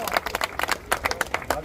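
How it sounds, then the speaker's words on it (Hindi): A rural village crowd at a political honoring ceremony claps loudly in uneven bursts, sharp hand claps pulsing irregularly over background noise. "जोरदार तालियां बजाए सारे साथी"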